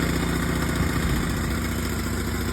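A carbureted small engine on an AWD hybrid bicycle idles to warm up after a choke start, giving a steady, even putter at close range with no talking over it.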